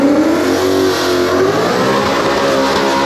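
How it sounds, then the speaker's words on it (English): Ford Mustang drag car engine revving loudly at a drag strip, a continuous close, aggressive roar with rising and falling pitch throughout, no talking. "Mustang sounds mean."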